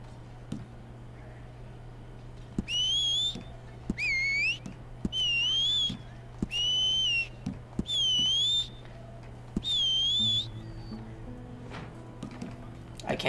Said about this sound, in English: I actually like that whistle.